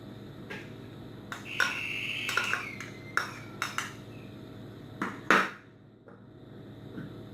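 Chopped onion tipped into a bowl of chana chaat with boiled potatoes and chickpeas: a handful of close, sharp clinks and taps of a spoon against the bowl, spaced irregularly over quiet background.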